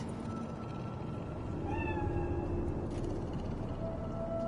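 A cat in the city streets of Cyberpunk 2077 gives one rising meow over a steady, hissing ambient background, fairly faint. A soft, thin tone follows a little later.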